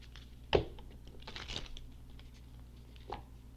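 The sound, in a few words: shuffling a deck of mantra cards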